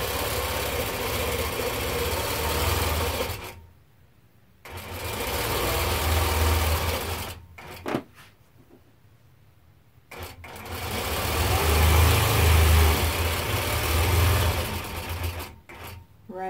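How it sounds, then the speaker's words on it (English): A Nolting Pro-Series longarm sewing machine runs in steady, loud stitching bursts while attaching quilt binding, stopping twice into near silence before resuming its continuous mechanical hum and rattle. "I'm going to do a few stitches just to lock that in place."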